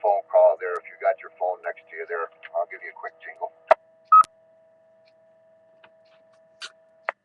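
Touch-tone telephone dialing from a landline or phone, a string of short keypad tones and clicks sounding after a stretch of talk, with a steady hum underneath and sparse tones trailing off.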